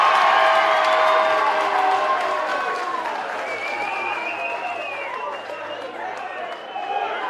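A crowd at a wrestling match cheers and applauds, a broad wash of clapping and shouts that starts loud and slowly eases, with talk from nearby voices over it.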